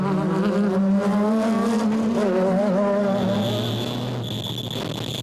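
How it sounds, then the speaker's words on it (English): A Nissan Navara rally racing car at the Carnival City 400 passes with a loud, revving engine drone whose pitch wavers and then drops as it pulls away, with a high whine lingering afterward. "with Terence Marsh and Bucks Carolyn bringing up the rear of a little gaggle of cars in the Regent Racing Nissan Navara"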